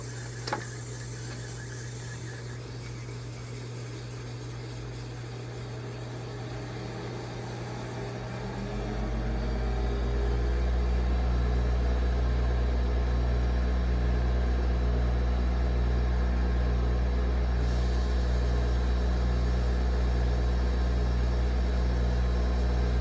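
A wood lathe polishing a wooden pen ramps from slow turning to about 3,600 RPM, its motor hum climbing halfway through and settling into a loud, steady drone.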